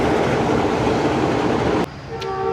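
Blue Tiger locomotive AJ 36027 approaching a platform at Karachi station, a loud broad rumble that cuts off sharply near the end, followed by quieter tonal hum and a brief high tone.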